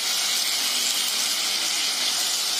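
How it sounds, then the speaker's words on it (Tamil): Tomatoes and onions sautéing in oil for tomato biryani, a loud, steady hissing sizzle that holds without a break. "ஆயில நல்லா வதக்கிடுங்க."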